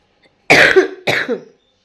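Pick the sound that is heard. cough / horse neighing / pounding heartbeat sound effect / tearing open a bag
cough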